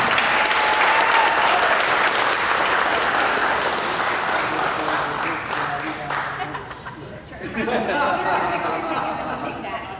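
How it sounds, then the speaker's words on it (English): Loud, sustained audience applause at a ceremony honouring drag racing legend Don Garlits, with dense clapping and crowd chatter that dips briefly before swelling again. "And let's give the king of drag racing, Big Daddy Don Garlits, a big round of applause."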